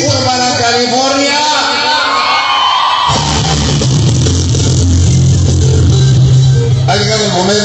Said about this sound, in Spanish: Un grito para California.